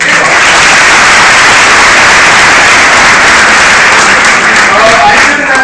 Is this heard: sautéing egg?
no